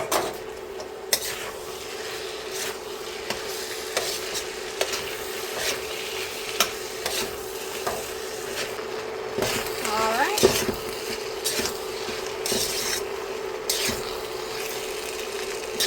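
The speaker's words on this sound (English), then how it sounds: "I'm going to stir this until all of that sauce has covered my rice" Cooked rice being stirred through a sweet, smoky honey beef sauce in a pan: a steady close sizzle with scattered scrapes and clicks of a utensil against the pan throughout.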